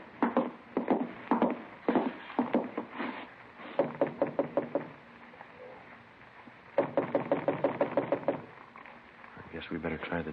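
Knuckles rap on an apartment door in an old-time radio police drama, with repeated bursts of three to five sharp knocks, close and loud, separated by pauses, and a voice in the final moments.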